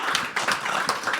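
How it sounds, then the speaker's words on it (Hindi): A burst of applause from an audience at a live poetry open mic, steady clapping filling the short moment without any talking. "हाँ, तालियां बजती रहनी चाहिए,"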